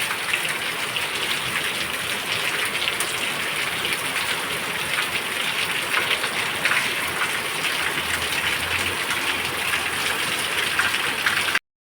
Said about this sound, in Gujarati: આપણે વાવણી જેવો પહેલો વરસાદ આવ્યો